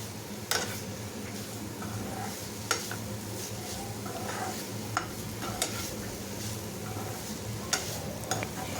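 Spiced raw banana pieces fry in a pan with a soft, continuous sizzle as a spatula stirs them now and then, giving several light clicks and scrapes against the metal.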